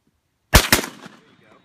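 A Mosin-Nagant rifle fires outdoors: one sharp, loud crack followed at once by a second close report or echo, then a fading rumble trailing off into quiet.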